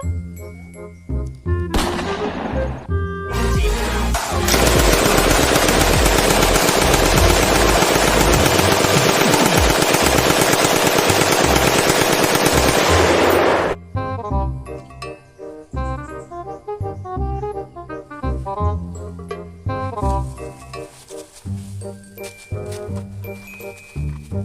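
A toy machine gun fires one long, loud, continuous burst of rapid shots lasting about ten seconds, with jingly music playing before and after it.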